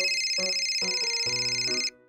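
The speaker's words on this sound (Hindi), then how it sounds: "आप परेशान मत होइए, अभी फोन आता ही होगा।" A phone ringtone plays alone, a bright repeating electronic melody of stacked tones that steps through several notes before cutting off abruptly.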